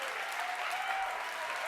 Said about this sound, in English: full round of applause for that